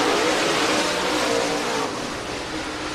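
Race cars in a Southern Thunder Series event roar around the Penton Raceway speedway, a loud, dense engine drone that swells and then eases slightly as the field passes, with no talk over it.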